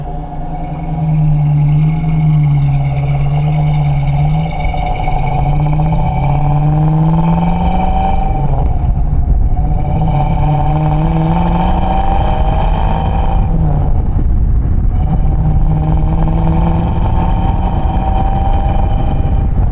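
A 1967 Mustang S-Code with a 390 V8 drives along loud and close, its engine droning steadily and rising and falling in pitch through several gear changes.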